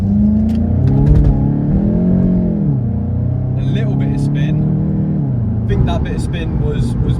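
A VW GTI's engine revs as the wheels spin on a wet road with poor tyres. The engine note climbs, dips and rises again under nearby talking.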